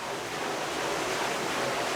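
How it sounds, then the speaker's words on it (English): A water wheel turns at Wortley Top Forge, driving the shaft of a large hammer. It makes a loud, continuous rush of churning water that stays steady throughout, with no talk over it. "You can see the water wheel turning, which quite easily turn the shaft."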